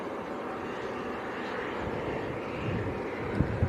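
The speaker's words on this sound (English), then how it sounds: "Little aircraft on the runway, Tom." A small propeller aircraft on the runway at Leeds Bradford Airport, its engine drone a steady, fairly loud broadband roar that holds throughout, with a few faint knocks near the end.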